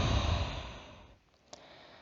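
A long, audible exhale during a yoga breathing exercise, breath fading out over about a second, followed by quiet and a small click.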